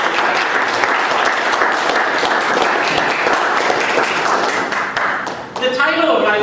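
A conference audience applauds the organizers as they stand, dense sustained clapping filling the hall for several seconds before thinning out near the end.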